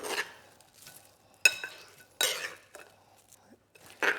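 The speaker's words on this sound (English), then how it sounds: "I'm gonna get a spoon to mix this because those are straight out of the oven." A spoon stirs freshly toasted, oven-hot croutons into a panzanella salad, giving scattered scraping clinks and crunchy rustles in uneven bursts, close and moderately loud.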